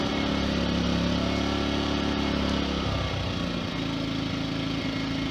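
An Amico AIG2000 2000W inverter generator runs in eco throttle mode, holding a steady, close, continuous engine hum whose pitch drops and settles partway through with no talking.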